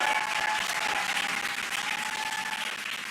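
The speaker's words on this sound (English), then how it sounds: "You can hear the crowd here." A crowd cheers and applauds steadily at a spacecraft splashdown watch as two drogue parachutes deploy on the SpaceX Crew Dragon Freedom during the Crew-9 re-entry, a dense, continuous wash of clapping with a faint steady tone underneath.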